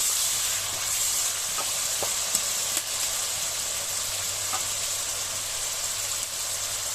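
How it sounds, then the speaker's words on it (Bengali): Turmeric, coriander powder and salt fry in oil in a village kitchen, giving a steady broad sizzling hiss at moderate level with a few faint clicks. "হলুদের গুঁড়ো, ধনিয়ার গুঁড়ো, লবণ, মশলাটা কষিয়ে নেব।"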